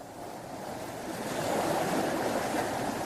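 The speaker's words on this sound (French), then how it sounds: "Les vagues dont vous entendez le bruit" Ocean surf breaking on an eroding beach at Gbodjomé on the Togolese coast near Lomé, a steady loud wash of crashing waves swelling slightly toward the end, with some wind, no voices.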